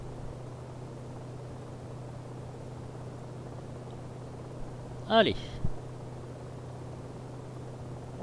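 A Vskylabs Mini 500 helicopter in X-Plane 11 hums as a steady, faint rotor and engine drone throughout, with a brief spoken word and a short burst of voice partway through.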